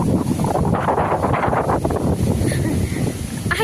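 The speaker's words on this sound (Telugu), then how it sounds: "చాలా గాలి అయితే వీస్తుంది." Strong sea wind roars steadily across a microphone at Mayabunder in the Andamans, a dense, continuous buffeting rush with faint sounds underneath throughout.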